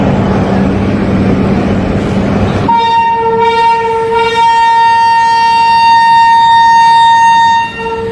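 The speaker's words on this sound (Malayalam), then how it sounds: "ഒരു ട്രാക്കിലാണ് രണ്ട് ട്രെയിൻ" A train rumbles loudly, then a long, steady train horn blares for several seconds before cutting off, with heavy rail noise throughout.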